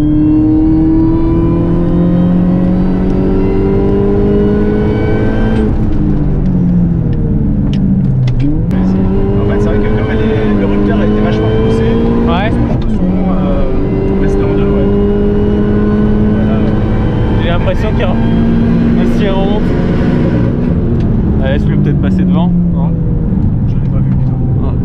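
Heard from inside one car, a Mini Cooper S 225 and a Peugeot 308 GTI 270 race around Circuit Les Ecuyers in Beuvardes. A loud engine drone rises and falls through gear changes, and occupants talk over it.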